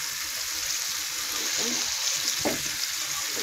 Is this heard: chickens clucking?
no